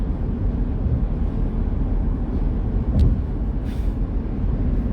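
Steady broadband rumble of road and wind noise inside a car cruising on a highway, loud and constant with a couple of brief higher hisses, no voices.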